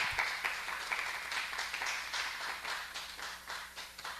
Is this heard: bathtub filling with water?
no